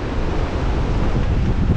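Strong sea waves at Patapat Bridge in Ilocos Norte roar in a loud, continuous wash, with wind buffeting the microphone.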